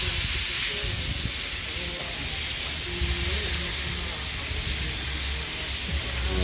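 Steak seared on a hot smoker grill, giving a loud, steady hiss and sizzle that runs unbroken from start to finish, close and even in level.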